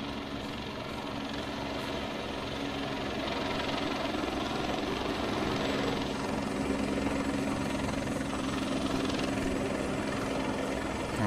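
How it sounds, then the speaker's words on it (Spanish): Helicopter landing in ArmA 3, a continuous loud rotor thump and engine roar that holds steady throughout, close and dominant with no voices. "No sé si el helicóptero va a aterrizar aquí."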